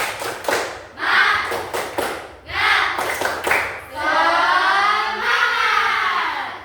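A group performs a rhythmic clapping cheer, the tepuk semangat, with a run of sharp claps followed by a chanted group shout. Voices join the clapping throughout, close and lively.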